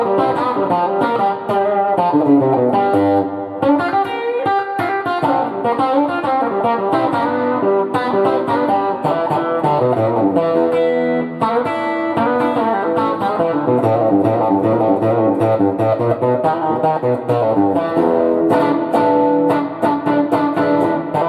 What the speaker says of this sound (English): notice how it really pushes that reverb too, which makes it, gives it a real natural kind of sound